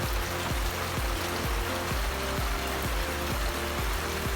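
Steady rain falls outdoors onto a deck at the edge of a gazebo beside a koi pond, a continuous close patter and trickle with a faint regular ticking underneath and no voices.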